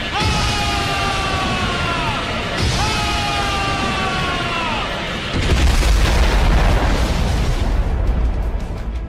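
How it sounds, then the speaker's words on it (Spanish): A big explosion in a Dragon Ball anime fight scene, with a heavy, deep rumbling blast kicking in midway over earlier swelling tonal effects, loud and sustained to the end. "lo que causa una gran explosión en contra del Saiyajin"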